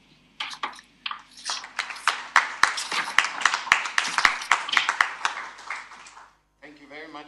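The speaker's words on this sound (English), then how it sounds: "I hope you heard the applause." Audience applause breaks out after an academic talk on Indigenous judicial autonomy in Aotearoa New Zealand, a dense burst of clapping lasting several seconds before fading; a voice briefly speaks at the end.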